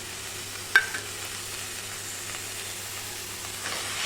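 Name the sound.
frying goat blood with grated coconut while stirring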